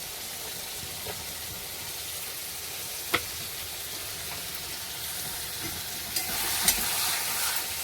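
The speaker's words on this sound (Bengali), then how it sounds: "ভালো করে ভেজে নিচ্ছি। টমেটোটা কেটে রেখেছি, এটাও দিয়ে দিচ্ছি একসাথেই।" Chopped tomatoes frying in a pan with onions, a steady broadband sizzle throughout with a few brief stirring clicks and scrapes, brightening near the end.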